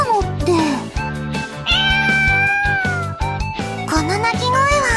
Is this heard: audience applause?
no